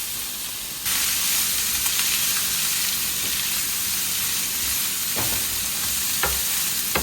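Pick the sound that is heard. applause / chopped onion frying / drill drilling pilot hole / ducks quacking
chopped onion frying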